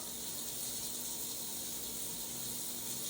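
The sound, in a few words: rinsing peeled boiled egg under running water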